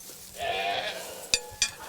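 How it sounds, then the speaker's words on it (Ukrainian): Goats bleating on a small household farm in Volyn, a couple of wavering bleats close by, then two short sharp calls near the end, with no talk over them. "Мої кози."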